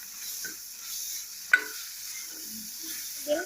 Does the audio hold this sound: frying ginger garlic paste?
yes